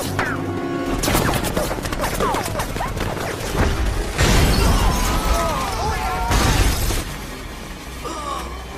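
Rapid bursts of automatic gunfire from a helicopter crackle in several loud volleys, mixed with sharp impacts and shattering debris, with short lulls between, in a film action scene.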